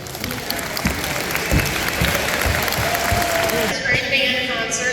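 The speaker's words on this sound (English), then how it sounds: "Give her a round of applause." Audience applause at a school spring band concert, steady clapping filling the hall for about five seconds, dense and fairly loud, with a few voices mixed in.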